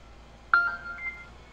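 A short electronic text-message alert tone sounds once during a Farming Simulator 17 session, a sharp bright blip followed by a sustained higher tone that ends quickly, against a quiet background.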